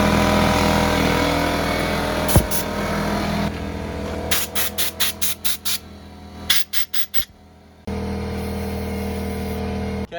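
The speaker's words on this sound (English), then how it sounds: "Be prepared for the little pancake compressor to kick in." A small pancake air compressor runs steadily and loudly while a compressed-air blowgun fires several short bursts, working on the carburetor of a 1971 Honda CT70H motorcycle during restoration.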